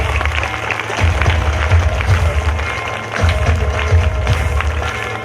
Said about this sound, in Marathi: जोरदार टाळ्या वाजवायचे आहे